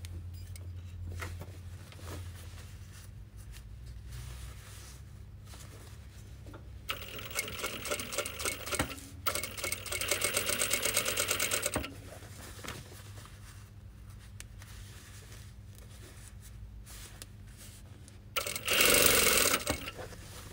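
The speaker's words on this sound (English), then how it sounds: "So we'll start by sewing on the plain seam side." Singer 4411 industrial sewing machine stitching a denim jean hem, with rapid rhythmic needle chatter in several bursts separated by pauses, the last burst loudest, close up over low hum.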